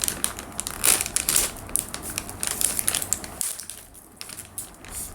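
A plastic candy bag for potato-fries-flavoured candy with strawberry ketchup is crinkled and ripped open, giving close, loud crackling and rustling bursts that ease off toward the end, with no talking.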